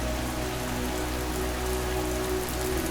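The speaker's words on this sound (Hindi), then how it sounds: "सुबह जब तेज बारिश हुई तो उनके घास फूस से बने घर की छत से पानी टपकने" Heavy rain falls steadily on a grass-thatched roof and drips through it, a dense, even hiss that runs unbroken with no voices.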